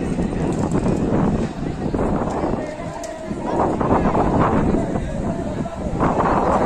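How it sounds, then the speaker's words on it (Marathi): Strong wind roars and buffets the microphone in a steady, loud rush, with faint voices mixed into the gusts. "इकडं वातावरण बघा असला वारा सुटले सगळ्या"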